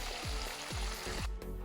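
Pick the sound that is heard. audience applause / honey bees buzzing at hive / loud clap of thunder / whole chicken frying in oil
whole chicken frying in oil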